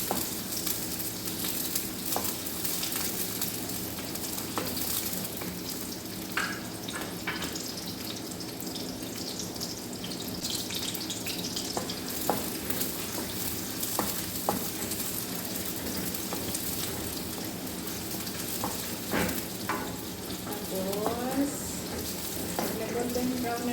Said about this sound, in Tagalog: Binigisa ko yung mga sahog. Sibuyas muna. Hanggang sa mag-golden brown siya.